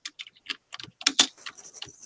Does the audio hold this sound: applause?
no